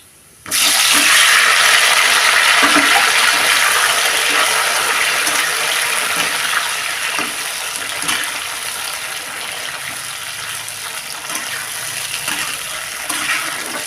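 Tomatoes dropped into a hot pan of oil with chilli and garlic for a Bengali tomato pickle, setting off a sudden loud sizzle that hisses steadily and eases slightly as it continues.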